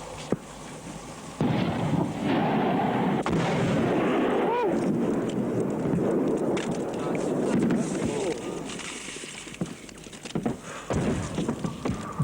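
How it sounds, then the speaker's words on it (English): Sustained enemy artillery fire rains on a Soviet garrison: repeated heavy booms and rumbling blasts, some near and some distant, roll over constant wind noise for the whole stretch. "By now, the enemy's artillery fire was sustained and occasionally uncomfortably accurate."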